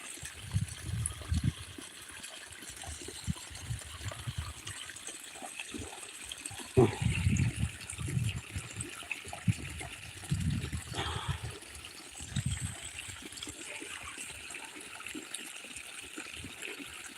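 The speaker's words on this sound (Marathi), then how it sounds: "तसं पाणी चालू आहे तोट्यावर" Irrigation water running steadily from an outlet into a wheat field, a soft continuous trickle with intermittent gurgling splashes and low rumbling bursts.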